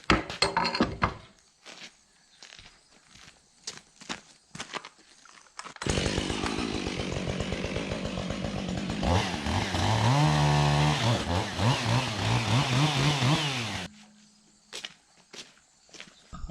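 Dry wooden pieces being cut with a chainsaw after a run of footsteps and knocks, the saw roaring steadily for several seconds, its pitch bending as it bites through the wood, then stopping to quieter thuds.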